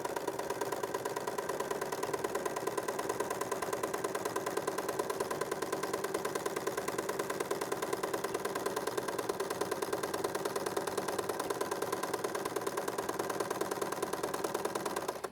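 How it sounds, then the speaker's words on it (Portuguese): A small home sewing machine stitches printed fabric with pink thread, running in a steady fast mechanical hum with an even rapid needle rhythm throughout, close and moderately loud, with no talking. "Eu levo na minha maquininha de costura, coloco aqui, passei uma linha rosinha para combinar com a estampa do tecido."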